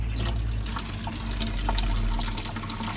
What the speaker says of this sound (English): then fill the rest up with my 10 parts of water